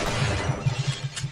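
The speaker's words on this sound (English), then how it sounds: "Why is all this glass breakable?" Glass shatters repeatedly in a Half-Life game map, a quick series of sharp crashing breaks with tinkling debris, fairly close and loud, with no talking over it.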